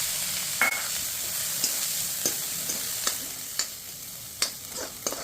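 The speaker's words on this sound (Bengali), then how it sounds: "এই যে কর্নটা এবার দিয়ে দেবো, এটাকে একটু ফ্রাই করে নেব।" Corn kernels frying in a pan for white sauce pasta, a steady sizzle broken by regular scraping stirs of a spatula, close and without talk.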